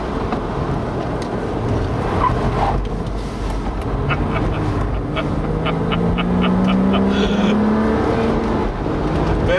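An Audi Allroad is driven around a track, its engine droning steadily near the microphone and rising in pitch as it accelerates, with faint scattered clicks and no talk.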